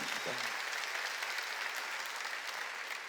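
Congregation clapping during a Korean church sermon, a soft, fairly distant patter of many hands that continues evenly after a brief spoken word at the start.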